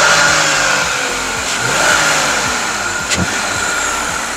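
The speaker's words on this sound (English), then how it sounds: "Rev it for me there." Up close, a Jeep Gladiator engine revs upward in a couple of rising surges that fall back toward idle, loud and rough, with no voices.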